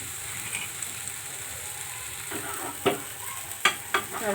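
Pesarattu, a moong dal dosa, frying in generous ghee and oil on a plain iron pan: a steady close sizzle, with a few sharp scraping clinks near the end.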